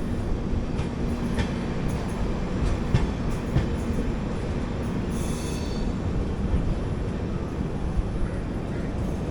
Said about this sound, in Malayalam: നമ്മൾ ഷൊർണൂർ ജംഗ്ഷൻ്റെ പ്ലാറ്റ്ഫോം 7ലേക്ക് പ്രവേശിച്ചുകൊണ്ടിരിക്കുന്നു